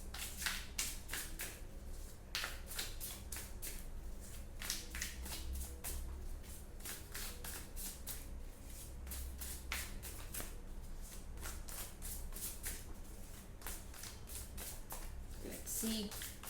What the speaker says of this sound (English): I have to shuffle. Actually, I have to give a good shuffle.